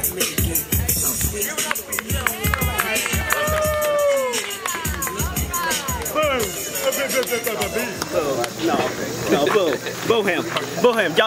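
Crowd at an American Lucha Libre wrestling event booing a wrestler, a rough, sustained chorus of low jeers beneath a loud, excited voice addressing the audience.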